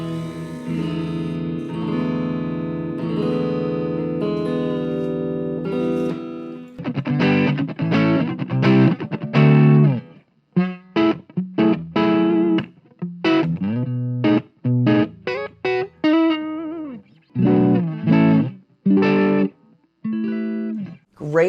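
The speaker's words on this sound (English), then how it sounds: "great sounding guitar." A Gibson Darkfire electric guitar with Burstbucker 3 and P90H pickups rings out loud through a distorted amp, opening with a long sustained chord and moving into choppy, rhythmic strummed stabs and short bursts of notes, with no talking.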